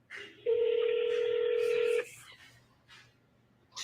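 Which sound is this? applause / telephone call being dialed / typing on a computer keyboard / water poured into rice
telephone call being dialed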